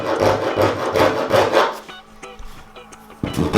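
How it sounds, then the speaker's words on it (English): A Surform rasp shapes the tail of a foam surfboard in close, rhythmic scraping strokes, about six quick passes, followed by a quieter pause with a faint hum and a few lighter scrapes. "Now we're moving on to the tail. I'm going to take my shear form and start."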